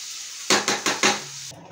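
Onions and green chillies frying in the oil left over from frying dried fish, a short sizzle with four quick bursts of stirring scrapes before it cuts off.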